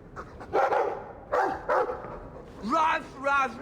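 Dog barking in the video game Dragon Age II, a few short yelping barks in bursts amid game dialogue and voices, fairly close and moderately loud.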